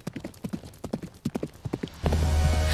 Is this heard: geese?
no